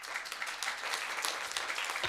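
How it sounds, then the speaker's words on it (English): Audience applause breaks out at a plan commission meeting, a dense, steady patter of many hands clapping through the whole stretch, moderately loud and without talk. "Again, please hold the applause."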